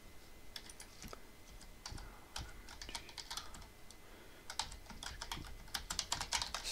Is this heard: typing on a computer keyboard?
yes